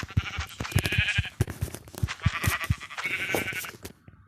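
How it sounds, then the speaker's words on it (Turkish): Repeated Minecraft sheep bleats, several short nasal calls in a row, fairly close and clear with a game-like quality. "Vallahi vallahi koyun buldum."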